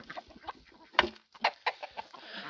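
Backyard chickens cluck in a series of short, irregular calls, one sharper squawk standing out, fairly close with faint background noise.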